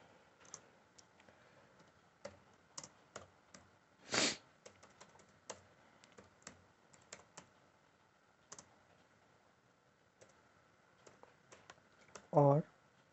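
Computer keyboard typed in quick irregular bursts of clicks while HTML code with meta tags is written, quiet and close, with two louder thumps breaking in between the keystrokes.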